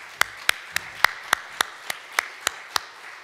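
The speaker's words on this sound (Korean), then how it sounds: "우리 박수로 환영하겠습니다." Church congregation clapping in welcome during a Sunday worship service, a slow, regular beat of about a dozen sharp, evenly spaced claps, clear and fairly close.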